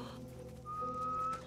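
Ellie whistles a single short, steady note in The Last of Us, faint over a low game hum.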